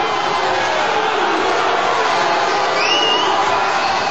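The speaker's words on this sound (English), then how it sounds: "Crowd getting anxious." A dense arena crowd at a heavyweight boxing bout roars and shouts in one continuous, loud wall of noise, with a single rising whistle cutting through partway.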